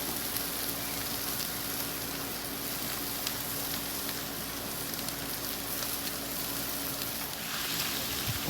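Steak for cheesesteak sizzling on a Blackstone griddle with Worcestershire sauce and garlic powder, a constant close crackling hiss that stays even throughout with faint pops.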